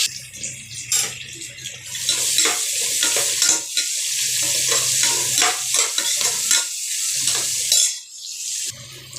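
Onions sautéing in oil and ghee for chicken biryani give a steady, close sizzle and fry, broken by repeated stirring scrapes in the pan, with no talk.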